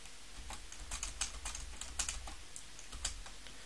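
Computer keyboard keys pressed while working in the Eureka Doom level editor, a quick irregular run of light clicks and taps, fairly close, with no talk.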